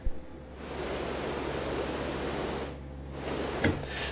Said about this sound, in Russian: Так, третий регулятор, соответственно, шум розовый.